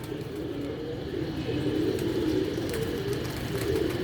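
Pigeons let out soft, continuous low cooing at close range, a steady murmur with faint background noise and no clear voices.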